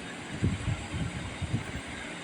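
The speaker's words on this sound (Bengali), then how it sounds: "এই দেখুন পুরো টয় ট্রেনটা দুটো কামরা নিয়ে দার্জিলিং থেকে শিলিগুড়ির দিকে আসছে।" A Darjeeling toy train with two coaches rumbles past with low, uneven chugging pulses over a steady hiss, no voices.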